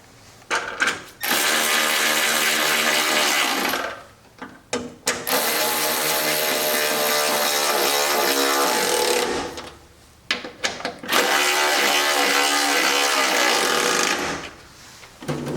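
A power tool tightens fasteners on dynamic ducts being installed on a C8 Corvette. It gives three long, loud whirring runs of several seconds each, separated by short pauses and clicks, and it is close and alone with no talking.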